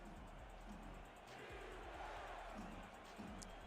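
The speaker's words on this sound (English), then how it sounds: "Crowd making noise here for the Toros." Stadium crowd at a football game cheering for the Toros, a steady distant roar of many voices filling the background with no single sound standing out.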